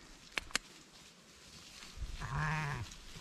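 A single sheep bleats nearby on Dartmoor for about a second, wavering, after two sharp knocks or footsteps against faint outdoor background.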